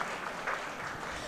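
A crowd at a lifetime achievement award ceremony breaks into a short burst of dense, steady applause.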